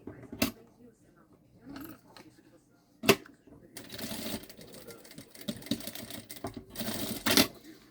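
A sewing machine stitches a seam on a synthetic-material backpack. It gives a short burst, then a longer run of rapid mechanical stitching, with someone speaking softly between the runs.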